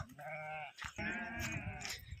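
Several sheep bleat in overlapping succession, a continuous chorus of nearby bleating from a small flock.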